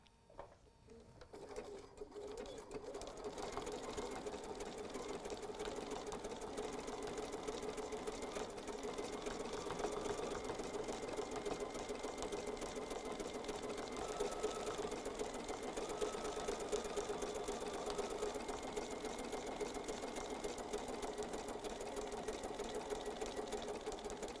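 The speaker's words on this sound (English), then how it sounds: "We'll start here and we'll add some fun little crazy stitching." A domestic sewing machine sewing free-form decorative crazy stitching on foundation paper-pieced fabric, a steady close whirring hum that starts after a brief pause and runs unbroken at constant speed.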